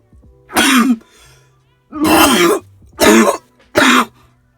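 Four loud, harsh coughs close up, in uneven bursts with short silences between them.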